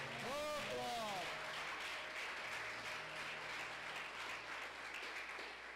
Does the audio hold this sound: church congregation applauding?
yes